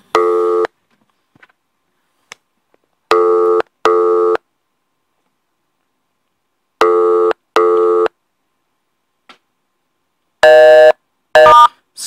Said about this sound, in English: nobody wants to answer the phone to her